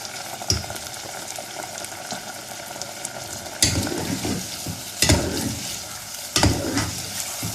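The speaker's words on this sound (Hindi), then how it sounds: "फिर हम डालेंगे 2 टेबलस्पून अदरक लहसुन का पेस्ट।" Ginger garlic paste fries with beef in a pan, giving a steady sizzle under scraping and stirring sounds, with a few louder clatters of the spoon close up and no talking.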